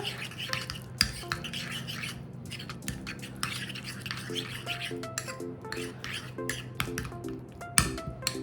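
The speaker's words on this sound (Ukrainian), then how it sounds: "Гарненько перемішуємо ложкою" A spoon scrapes and clinks steadily against a bowl, stirring a garlic sauce in an irregular rhythm, close and fairly quiet with a faint hum underneath.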